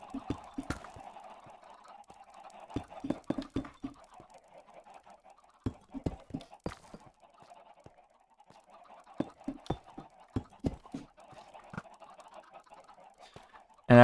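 Adult chickens in a Minecraft 1.19 automatic chicken farm cluck in short, repeated bursts, a scattered run of near, moderately loud calls with no talk over them.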